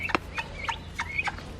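Several short, bright gobbling calls from a small flock of four turkeys out in a garden pen in the morning, repeated at an uneven rhythm a short distance away over low background hum.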